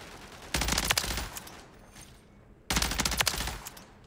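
Two short bursts of rapid automatic fire from a BP-50 rifle in Modern Warfare III, each crackling volley lasting about a second and separated by a quiet gap.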